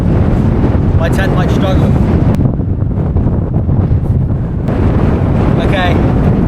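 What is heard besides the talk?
strong wind on Dartmoor, blowing on microphone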